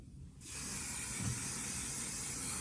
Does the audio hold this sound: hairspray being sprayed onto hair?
yes